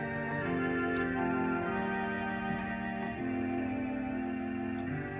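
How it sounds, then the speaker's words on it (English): A pipe organ sounds its Vox Humana stop on the swell, a reedy, wavering tone holding soft chords that shift slowly in a reverberant synagogue, heard without talking. "So here's the Vox Humana on the swell."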